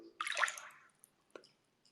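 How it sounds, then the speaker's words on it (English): A hand lifts out of bath water with a short close slosh and trickle, followed by a few scattered drips falling back into the tub in a quiet room. "That was me taking my hand out of the water to show my pinky."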